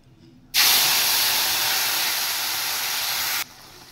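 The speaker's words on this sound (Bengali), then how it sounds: "তাহলে এটা এবার আমি তেলে দিয়ে দেব।" Hot oil meets a paste of green chilli, ginger, coriander powder and cumin powder, bursting into a loud, steady hiss that holds for about three seconds before cutting off, with quiet before and after.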